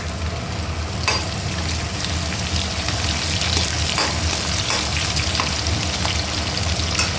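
Onions frying in a pan, a steady, fairly loud crackling sizzle that continues throughout with scattered sharper pops, and no talking.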